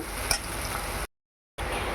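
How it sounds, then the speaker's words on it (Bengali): Chopped onions frying in hot oil in a wok with bay leaves, a steady close sizzle filling the first second, then a half-second gap of silence before the hiss resumes. "পেঁয়াজগুলো লাল লাল করে ভাজা করে নেব"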